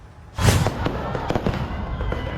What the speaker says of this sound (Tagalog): Sa gitna naman ng fireworks display sa Oroqueta, Misamis Occidental, biglang lumipad ang mga paputok sa mga manunood.